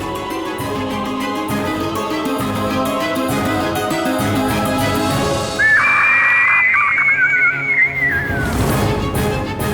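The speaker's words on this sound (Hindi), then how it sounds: "ये तो टिटहरी के चीखने की ध्वनि है।" A lapwing cries out once, a shrill rising-and-falling call that sits over a background of musical drone, brief and fairly loud.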